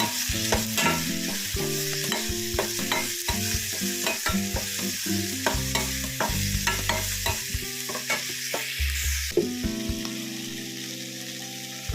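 Steady loud sizzling of onion tempering frying in a pan, with repeated scraping of a spatula stirring throughout, and no talking.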